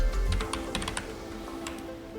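A computer keyboard is typed on while coding in Python in a Jupyter notebook: quick, light, irregular clicks of individual keystrokes, close by with no talking.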